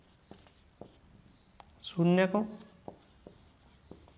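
Chalk or marker taps and scratches on a board during a maths lesson on quadratic polynomials, with short strokes spaced through the clip while a teacher talks over them.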